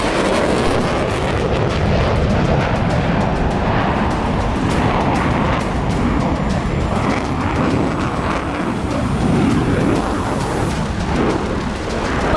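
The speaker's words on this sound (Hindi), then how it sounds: "पांचवी पीढ़ी का F-35 एक सुपरसोनिक लड़ाकू विमान है" An F-35 supersonic fighter jet thunders past in a loud, rumbling roar that swells and churns steadily throughout, with no voices.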